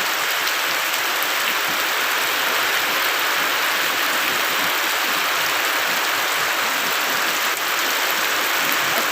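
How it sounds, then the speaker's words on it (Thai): Heavy rain pours steadily and loudly outdoors, a dense continuous hiss with no pauses and no voices. "ตอนนั้นฝนยังไม่ตกหนักขนาดนี้นะคะ"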